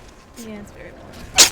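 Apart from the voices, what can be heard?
sneeze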